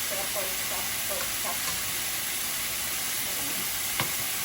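Pork chop marinated in soy sauce, vinegar, garlic and onion sizzles on a grill with a steady, dense hiss and scattered crackles, with faint voices in the background.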